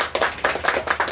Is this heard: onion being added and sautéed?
no